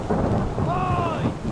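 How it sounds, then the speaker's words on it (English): A loud, close rumble of thunder rolls through a storm aboard a ship in Return of the Obra Dinn, with heavy rain noise behind it and a brief high whistling tone in the middle. "Storm's coming!"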